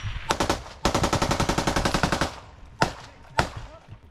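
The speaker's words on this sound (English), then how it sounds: "One guy on that machine gun." A machine gun fires during combat in the Russia–Ukraine war: one rapid, evenly spaced burst of about a dozen close, loud shots, followed by a few separate single cracks.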